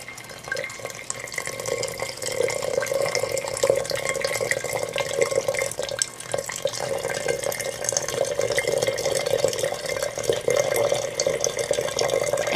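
Boiling water poured from above over a compressed heart-shaped tea ball in a tea kettle, a continuous splashing, bubbling stream held steady throughout without talk.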